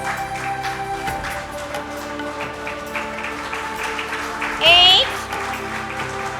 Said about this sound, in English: Just encourage them by your applause.